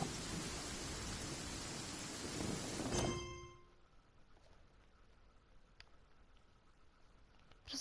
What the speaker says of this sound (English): Rains when I go on an adventure.